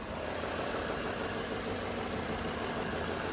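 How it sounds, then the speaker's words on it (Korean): A 2014 Lexus LS460 flagship sedan with 133,000 km idles with its hood open, giving a steady, smooth, quiet hum heard close up with no talk. "엔진 소리 한번 들려드릴게요"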